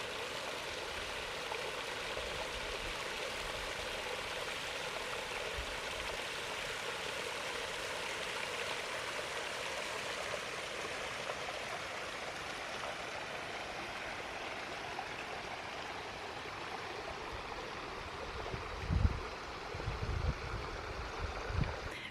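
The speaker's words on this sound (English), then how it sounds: "all it really is a kind of ravine of all these rocks and water." Water rushes steadily over rocks in a rocky ravine at Lad's Leap in the Longdendale Valley, Peak District, a continuous close broadband flow, with a few brief low thumps near the end.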